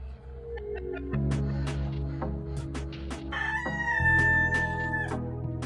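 Podkarpacka chickens, a primitive breed, in an outdoor flock: a rooster crows loudly and repeatedly over steady clucking and calls from the hens, with several birds vocalising at once close to the microphone.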